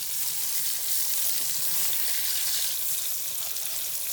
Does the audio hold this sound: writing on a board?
no